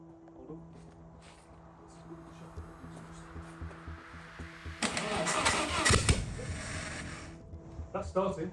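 A 300 HP race engine in an abandoned 1980s supercar cranks quietly under faint talk. Around the fifth second it fires and catches, then runs rough and loud with sputtering revs.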